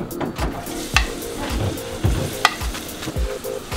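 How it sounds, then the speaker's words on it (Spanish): Onion frying in olive oil with paprika in a pan for an Ecuadorian seafood cazuela, a close sizzle broken by sharp clinks and scrapes of stirring and pan knocks, with no talking. "Después de eso vamos a poner la cebolla."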